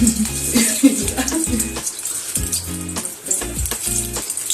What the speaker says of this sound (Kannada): ಇವಾಗ ಎಣ್ಣೆ ಕಾದ ನಂತರ ಬೇಬಿ ಕಾರ್ನ್ ಅನ್ನು ಹಾಕ್ತೀವಿ